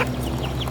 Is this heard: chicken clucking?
yes